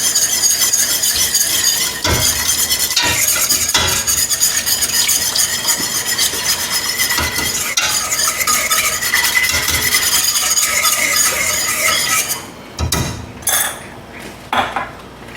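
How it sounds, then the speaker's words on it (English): Milk being whisked into a sauce in a pan, a steady busy scraping and clinking of utensil against cookware that runs continuously before breaking into a few separate knocks near the end. "We're going to stir this either with a wooden spoon or a heat-proof spatula until it gets thickened."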